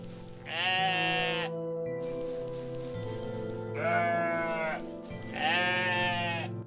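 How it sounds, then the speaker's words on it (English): Sheep in the video game OneShot bleat three times, each a loud, wavering cry standing alone over a steady game music backdrop. "Let's wrangle some sheep."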